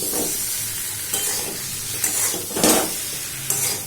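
Eggs sautéing in a pan of red masala curry coloured with Kashmiri chilli, a steady sizzle with occasional scraping stirs and soft hissing bursts, no voices.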